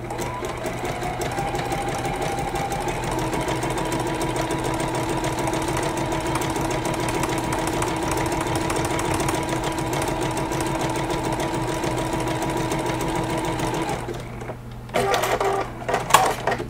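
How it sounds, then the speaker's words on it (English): A sewing machine runs a zigzag stitch across a teddy bear applique, a steady, close mechanical whir lasting about fourteen seconds before it stops, followed by a few brief handling clatters. "with this very same zigzag stitch, I'm going to stitch down"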